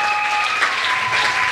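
A church congregation applauds in a brief, dense burst of clapping that fills the room evenly and stays loud throughout.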